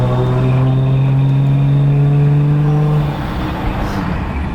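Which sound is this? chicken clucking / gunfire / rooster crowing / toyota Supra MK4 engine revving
toyota Supra MK4 engine revving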